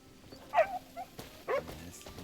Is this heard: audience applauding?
no